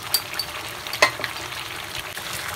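Beef trotters being sautéed for paya, a steady close frying hiss with a spatula scraping and one sharper knock against the pan partway through.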